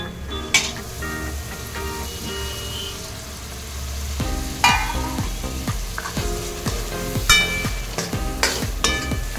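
Prawns sizzling while sautéed in masala in a pan, a bright crackling hiss with rhythmic spatula scrapes and clinks against the pan, close and steady, with a louder burst midway.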